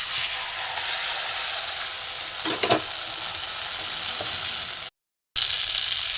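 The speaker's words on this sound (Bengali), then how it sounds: "মিক্সিতে পেস্টটা আমি ঢেলে দেবো।" Blended spice paste for a cabbage paturi frying in a pan after black cumin seeds, giving a steady, even sizzle with a couple of brief stirring scrapes and a short dropout near the end; no talk.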